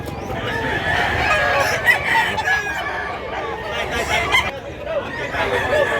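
Roosters crow and chickens cluck without pause at a poultry market in Mantalungon, Cebu, under a steady crowd chatter, with the birds loud and close throughout.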